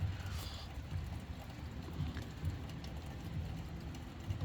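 Rain falling outside a window, a steady, soft wash of droplets with a low rumbling undertone, even and continuous throughout with no voices.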